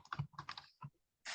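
Close, quiet keystrokes tap out a short burst of typing on a computer keyboard in a few uneven clusters with a brief pause, heard alone.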